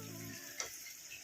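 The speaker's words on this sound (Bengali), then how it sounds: "আমি এখন ভাজছি পটল" Pointed gourd frying in a pan makes a faint, steady sizzle for a second or so, with one soft tick partway through and no voices.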